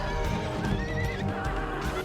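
Cavalry horses neigh and whinny loudly in the Rome Total War video game, layered over a dense clamour of battle with hooves and clashing, continuous and close.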